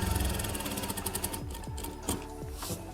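Sewing machine stitching pleats on a kameez, a steady close mechanical whir with quick rhythmic needle ticks running throughout, fairly quiet and heard alone.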